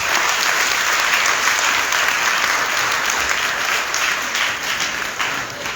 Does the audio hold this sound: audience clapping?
yes